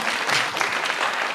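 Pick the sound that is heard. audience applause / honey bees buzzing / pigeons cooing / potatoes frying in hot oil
audience applause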